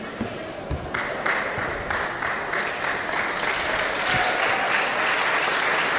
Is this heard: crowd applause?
yes